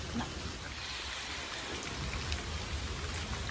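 The river at Haridwar rushes loudly and steadily, a dense broadband roar of flowing water that never lets up.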